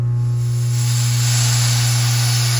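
Vacuum chamber degassing a pail of resin gives a steady, loud hiss over a constant low mechanical hum, unbroken and with no talking.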